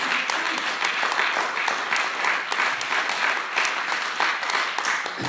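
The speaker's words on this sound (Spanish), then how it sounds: "Den un aplauso" A church congregation claps in a thick, continuous round of applause at a steady loudness, with no talking over it.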